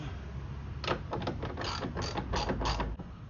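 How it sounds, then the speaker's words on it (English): A ratchet tightening the top bolt of a Redline hood strut on a Shelby GT350, giving a run of close, quick mechanical clicks in several short bursts. "Let's tighten this top one up."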